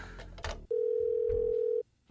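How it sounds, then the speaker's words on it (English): A phone in the video game Parasite Eve 2 gives one steady, single-pitched electronic tone lasting about a second, sounding after a few brief game noises and stopping abruptly, with no voices. "That's not a standard phone."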